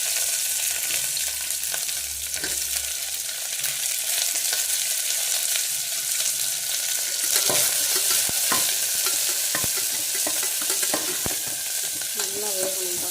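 Curry leaves and onion fry in oil for mutton soup, a steady close sizzle broken by repeated clanking stirs of a spoon against the pan and sharp crackles.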